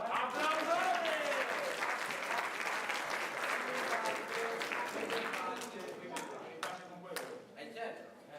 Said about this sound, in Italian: Applausone!